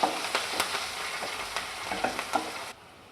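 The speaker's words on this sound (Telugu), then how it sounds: "ఇప్పుడు ఈ ఆనియన్స్ని బాగా ఫ్రై చేసుకోవాలి" Onions fry with curry leaves and turmeric in a pan for a purslane dal. A steady close sizzle carries repeated scraping stir strokes, then cuts off abruptly near the end.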